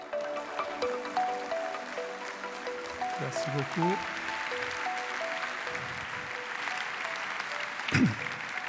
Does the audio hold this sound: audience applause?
yes